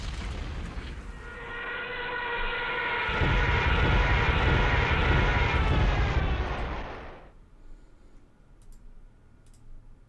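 Propeller aircraft engines in the wartime strategy game Decisive Campaigns: Blitzkrieg swell into a loud, droning hum that holds for several seconds and then cuts off, leaving faint ticking behind.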